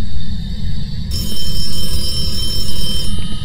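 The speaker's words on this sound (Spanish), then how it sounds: "Suena un teléfono ahí, pero no veo ningún teléfono." A telephone rings in the horror video game Phasmophobia inside an asylum, a continuous electronic ring that starts about a third of the way in and carries on over loud, rumbling low background noise.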